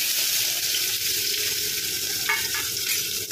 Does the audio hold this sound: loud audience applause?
no